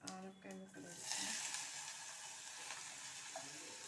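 Bottle gourd pieces frying in a pan after the tempering, a steady broadband sizzle that rises and holds close and fairly loud, with a voice talking briefly at the start.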